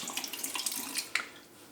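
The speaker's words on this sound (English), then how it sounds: "Give it a little rinse." Running tap water splashes as a razor is rinsed beneath it, a short, close, bright spatter of flowing water with small clinks.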